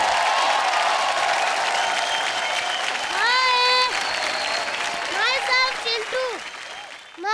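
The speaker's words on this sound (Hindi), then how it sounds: "जोरदार तालियां हो जाएं चिंटू और करण के लिए" A studio audience at a comedy television show bursts into loud, sustained applause, with cheers and voices rising over the clapping before it fades out.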